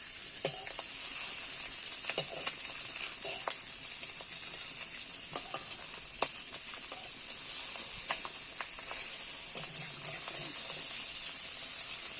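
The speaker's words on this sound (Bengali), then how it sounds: "তো প্রথমেই আমি সর্ষের তেল দিয়ে দিলাম এটা গরম করে নিয়ে ডিমগুলো ভেজে নেবো" Eggs fry in hot mustard oil with a steady, bright sizzle and scattered small crackles and pops, continuous and fairly close, with no talking.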